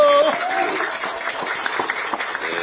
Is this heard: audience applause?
yes